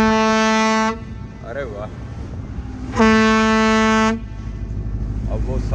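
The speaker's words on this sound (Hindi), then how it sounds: "कैप्टन ने जोर से दो बार हॉर्न दिया" A paddle boat's ship horn blasts twice, each a loud, deep, sustained tone of about a second, with a short spoken exclamation and background murmur between the blasts.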